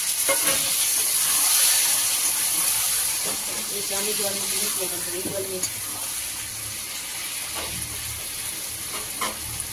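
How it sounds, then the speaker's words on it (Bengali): Spice masala with a little water is sautéed and stirred in a pan for a fish dish, giving a steady sizzling hiss with scraping stirs and a few sharp clinks, and a voice murmurs briefly in the middle. "এই যে জলটা একটু মিশিয়ে দিচ্ছি, দিয়ে একটু কষাবো।"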